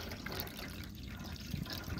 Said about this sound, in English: Take this water, just start dumping it in.